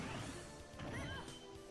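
A down smash attack lands in Super Smash Bros. for Wii U during Palutena amiibo training: a loud crashing impact over dense game music and effects.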